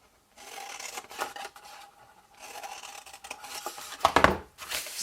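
Scissors cut through paper for a box in a few bursts of rasping, scraping snips, close and fairly quiet, with short pauses between cuts and a sharper clip near the end.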